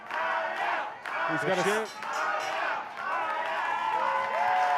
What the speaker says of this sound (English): the Lucky Strike Manhattan crowd chants Ariel